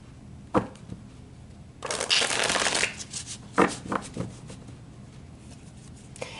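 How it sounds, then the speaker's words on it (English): Tarot cards being shuffled by hand: a quick riffle, a long rustling flurry of cards, then several short snaps and riffles, close and crisp in a quiet room. "Let's pull some tarot."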